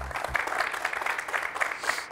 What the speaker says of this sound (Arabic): صفقوا على ناس